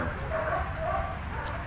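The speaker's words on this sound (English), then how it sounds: "my yappy dog over there" A small yappy dog barks and yips at a K9 protection sports training session. Quick repeated yaps and whines sound from a distance, steady under a continuous wash of outdoor background noise.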